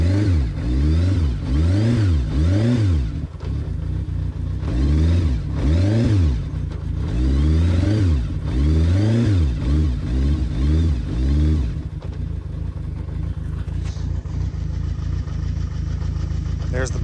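A Kawasaki GPZ 750 Turbo motorcycle engine runs loud and close with the choke off, rising and falling in repeated revs before settling into a steady idle, with a voice briefly heard.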